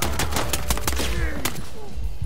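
Gunfire during a SWAT tactical shooter game, Ready Or Not, a loud rapid string of close shots crackling steadily across the whole stretch with no voices heard.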